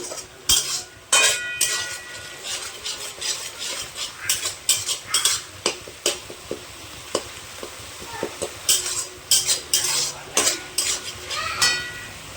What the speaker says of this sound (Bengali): একটু ব্রাউন ব্রাউন করে ভেজে নেব।